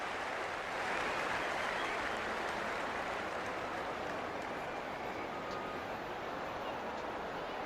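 A stadium crowd roars at a rugby league kickoff between the Sea Eagles and Sharks, a dense, sustained wash of cheering and applause from a distance, with no single voice standing out.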